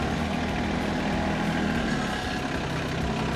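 A TYM T25 compact tractor running steadily at idle, a continuous low, even engine drone with light rattle, heard up close and alone without any talking.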